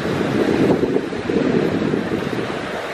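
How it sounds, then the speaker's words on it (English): Ocean waves break on the shore in a steady rushing wash with wind noise, loud and close throughout. "The waves are like coming up to where I'm at."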